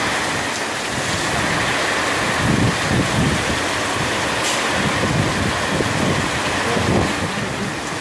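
Heavy rain falls in a continuous dense hiss and rumble, loud and close, with slight surges in intensity but no talk.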